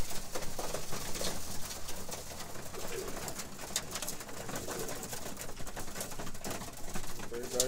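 Roller pigeons cooing and shuffling as they eat a feed mix in a loft, soft murmuring calls mixed with steady rustling and pecking, continuous and close throughout with no talk.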